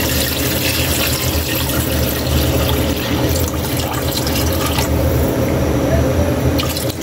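Water pours steadily into a cooking pot for pork balbacua, a continuous splashing fill with dripping and sloshing, loud and close, lasting several seconds.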